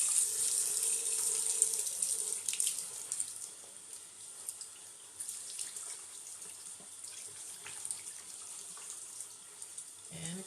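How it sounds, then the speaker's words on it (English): Cold water running from a kitchen or bathroom tap into a sink, a steady hissing splash that stays fairly constant and close, with no talk over it. "now, you're just going to run some cold water"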